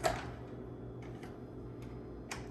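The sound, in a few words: stove being turned on, igniter ticking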